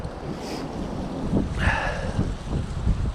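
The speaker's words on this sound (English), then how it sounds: "This is some really fast flowing water here." Fast-flowing river water at a fishing spot rushes and churns steadily close by, with gusts of wind buffeting the microphone over it.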